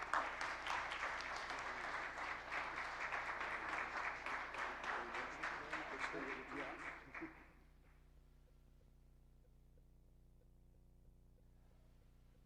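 Audience applauds award winners at an institute ceremony, a dense steady patter of many hands for about seven seconds before cutting off into a quiet hum.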